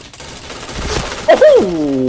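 Rapid bursts from an APC9 gun in the shooter game Point Blank crackle close and loud, and a voice cries out sharply near the end.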